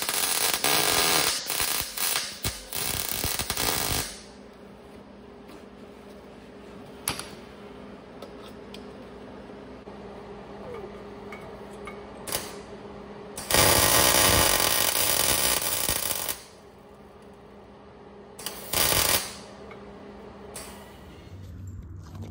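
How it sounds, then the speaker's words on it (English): Work on a broken Porsche 944 fuel tank part: bursts of harsh, buzzing cutting and welding noise of a few seconds each, separated by quieter stretches with faint ticks. "I'm gonna cut it about right there and come back over here"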